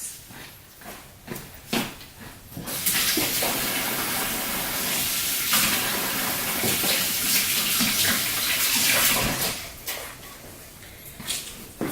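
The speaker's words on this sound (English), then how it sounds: "Let me go wash my hands." Tap water runs steadily and loudly into a sink while hands are washed in a home kitchen during cooking, a continuous splashing hiss with softer clatter before and after.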